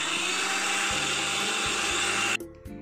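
An electric blender whirs steadily at normal speed while beating homemade mayonnaise with oil, a loud continuous motor drone that cuts off abruptly near the end, leaving brief clatter.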